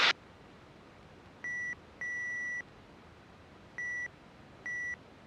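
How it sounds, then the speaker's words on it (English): Electronic warning beeps in an uneven pattern, four steady tones of varying length over a low engine hum, one sharp click at the start, from a failing exhaust gas temperature sensor. "that beeping in the background is one of my exhaust gas temperature sensors is going bad"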